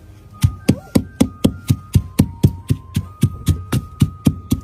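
Soaked dried chillies pounded into paste by hand with a stone, a steady run of about fifteen loud, close thuds at an even rhythm.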